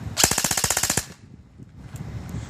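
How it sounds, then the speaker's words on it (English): An ICS Sig 552 Commando airsoft gun with a stock 120 spring and a LiPo battery fires a full-auto burst of about a dozen rapid, evenly spaced cracks lasting under a second. It sounds loud and close, then quiet follows. "Pretty damn good rate of fire if you ask me, especially for a gun that's out of the box stock and running a LiPo battery."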